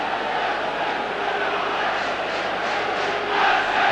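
A large football crowd of about 18,000 at a Crystal Palace v Liverpool League Cup semi-final, a dense continuous roar of voices and chanting that swells slightly near the end.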